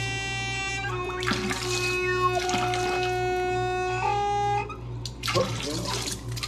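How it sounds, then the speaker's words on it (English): A leaking new faucet hisses steadily while a high whistling tone wavers and squeals over the water, with a low hum underneath and brief clunks near the end. "That sound you're hearing is our faucet, our new month-and-a-half-old faucet that now leaks"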